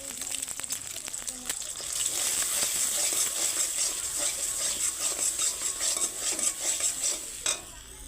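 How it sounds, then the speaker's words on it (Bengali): Two eggs frying in mustard oil sizzle and crackle close by, a bright hiss that builds and holds, mixed with repeated scraping and clinking of a spatula on the pan. "সরিষা তেল দেওয়ার পরে আমি 2টা ডিম দিয়ে দিচ্ছি"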